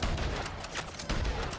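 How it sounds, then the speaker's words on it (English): A Navy revolver fires in a video game for a headshot through a bush, with loud, dense gunfire noise filling a brief moment close up. "Headshot with a Navy revolver through Slippery through a bush"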